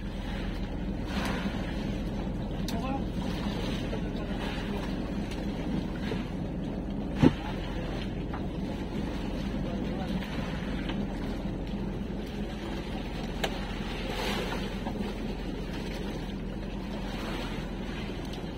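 A small outrigger fishing boat (bangka) named Japit heads home across open sea. There is a steady drone with continuous wind and water noise, a constant rumbling wash with a couple of brief knocks, and no voices.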